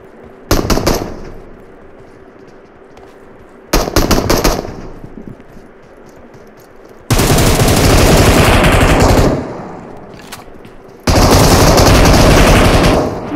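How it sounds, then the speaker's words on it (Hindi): Automatic machine gun fire in the mobile battle-royale game PUBG Mobile, loud close rapid bursts: two short volleys, then two long sustained sprays separated by a pause. "ये मशीन गन से दोनों को ले गया"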